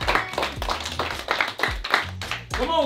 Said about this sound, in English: Clap it up for Lil Duke.